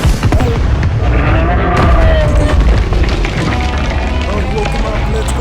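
In the Siren Head movie, loud booming blasts and rumbling detonations erupt amid chaotic battle noise, with people shouting over the din throughout.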